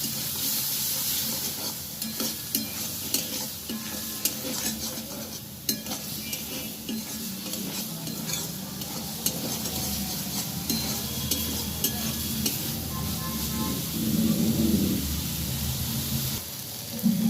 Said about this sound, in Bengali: আমি মশলা দিয়ে ভালোভাবে ভেজে নেব